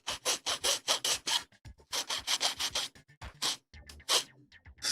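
Fuel tank parts from a 1/144 HG Bandai Gundam Gerbera-Tetra plastic kit are filed by hand in quick, rhythmic rasping strokes, close and alone, with short pauses between bursts.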